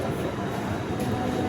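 A passenger train runs along the tracks, a brief, steady low rumble of the moving carriages heard from inside, with no talking.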